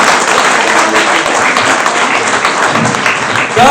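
A large audience applauding, dense and loud continuous clapping that fills the whole stretch, with a brief voice rising at the very end.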